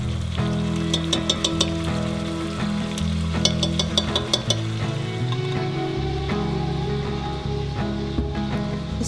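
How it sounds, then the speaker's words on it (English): Italian sausage and garlic sizzling in olive oil inside a Dutch oven, a loud, steady crackling fry with bright popping spatters throughout, no voices. "pouring in a little bit of olive oil and then starting to cook 1 pound of Italian sausage"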